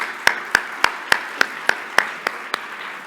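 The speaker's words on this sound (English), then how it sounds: "let's give these guys a round of applause" In a church service, about nine sharp, evenly spaced claps ring out alone in a quiet room, sounding more like a few hands clapping in slow rhythm than a full round of applause.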